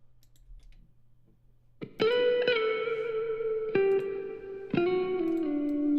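Distorted electric guitar solo washed in reverb, sustained bent notes ringing out after a quiet start, the lead entering abruptly around two seconds and holding long tones with a couple of fresh picked attacks.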